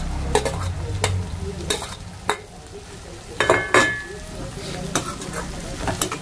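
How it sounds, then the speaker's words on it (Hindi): Onion and green chilli sizzle steadily in a pan at close range while a utensil scrapes and clinks against the metal in repeated irregular strokes. "और उसके बाद मैं इसमें डालूंगी प्याज और हरी मिर्च"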